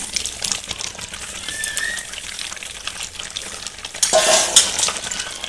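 Pre-fried potatoes drop into a pan of simmering mutton curry, a steady sizzle and stir rising into a louder splashing hiss near the end.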